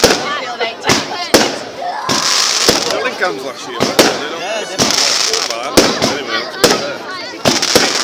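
Fireworks on bonfire night pop and bang in frequent sharp bursts, some crackling, heard outdoors under nearby conversation from several people.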